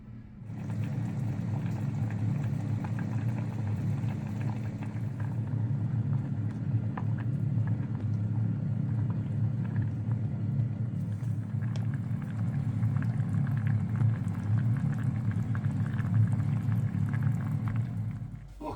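Curry sauce with chicken simmers in a pan, a steady low bubbling rumble that stays loud and even throughout without speech.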